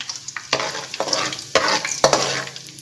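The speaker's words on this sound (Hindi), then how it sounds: "इसको हमने हल्का सा तेल के अंदर फ्राई करना है, बहुत 1 से 2 सेकंड के लिए बस" Ingredients frying lightly in hot oil for a fish curry, with a bright crackling sizzle and repeated stirring scrapes. The scrapes grow louder and busier toward the end, and no voices are heard.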